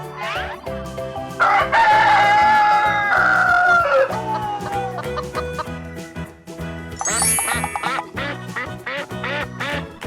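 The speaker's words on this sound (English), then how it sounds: "This is a duck." A cartoon farm duck quacks repeatedly and a rooster crows briefly, with both loud and up front over a bouncy children's music track.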